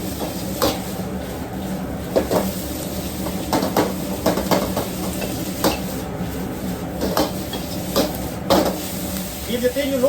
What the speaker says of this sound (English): And then stir it, okay?